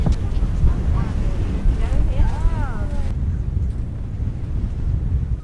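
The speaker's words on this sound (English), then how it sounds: "So windy." Heavy wind on a beach buffeting the microphone with a low roar throughout, while a voice speaks partway through.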